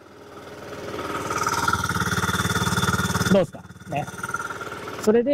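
A SYM Orbit III 50cc fuel-injected scooter idles nearby with a light, steady buzzing putter that suddenly cuts out, followed by someone speaking Japanese over it.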